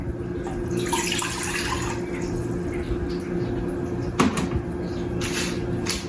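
One cup of water runs and splashes steadily into a small saucepan for several seconds, with a brief clatter partway through.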